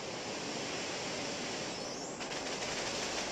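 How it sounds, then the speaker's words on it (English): Fire-type attack in Pokemon Ultra Sun bursting into a dense, roaring rush of crackling explosions, continuous and noisy, with a brief rattle of sharper pops near the end. "Ah, beautiful explosions."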